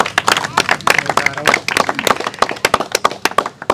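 Enthusiastic applause from a crowd at a rice auction, dense rapid clapping close and loud, with scattered sharper claps standing out over the continuous patter.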